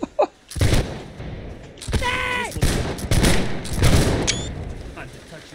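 Massed musket volleys crack out in a Napoleonic line battle in Holdfast: Nations At War. Several heavy, ragged bursts of gunfire come in close succession, with shouting voices and brief tonal calls between them.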